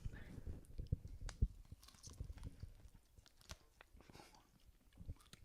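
Close-up crunchy chewing of a spicy hot-sauce snack, soft irregular crunches and mouth sounds at low volume, with brief breathy noises scattered through.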